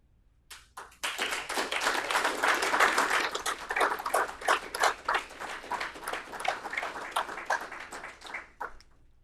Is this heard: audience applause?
yes